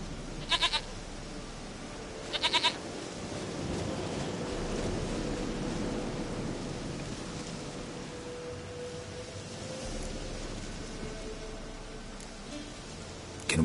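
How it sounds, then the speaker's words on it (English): Goat bleats in a video game, two short bleats near the start over a steady hiss of ambient game sound, with another brief cry at the very end. "Goat of mine, dearest, sweetest goat."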